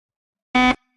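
A single short electronic quiz-show buzzer blast, harsh and tonal, lasting a fraction of a second in otherwise silence.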